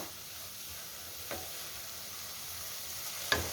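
Momo vegetable filling sautéing in a little oil, with a soft steady sizzle, close and quiet, broken by two brief scrape clicks of the spoon, one near the middle and a sharper one at the end.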